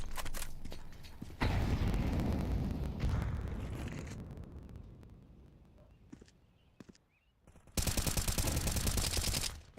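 Counter-Strike gunfire from a competitive match, loud dense bursts of shots and explosions crowding the opening seconds, thinning to sparse cracks and a near-silent lull, then a sharp rapid volley returning at the end.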